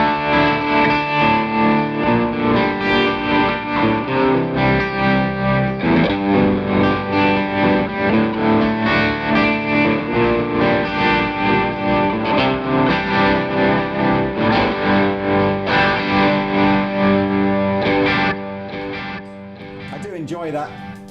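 Fender Jaguar or Jazzmaster electric guitar played through an amp with built-in tremolo, delay and a touch of distortion, sustained chords ringing steadily and fairly loud for about eighteen seconds before fading toward the end.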